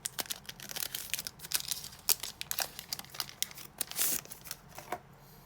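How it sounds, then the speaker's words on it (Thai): A Panini Euro 2020 football card pack wrapper is torn open and crumpled, giving a run of close, crisp crackling and tearing bursts with no talk. "เราเปิดอีก12 แพ็คที่เหลือกันนะครับ"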